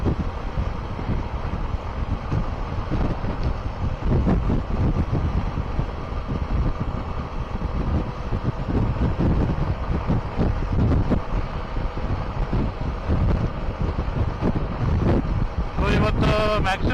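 Strong wind buffets the microphone while riding a Suzuki V-Strom SX 250 motorcycle on a smooth highway, a loud and continuous roar that stays steady throughout, with no talk.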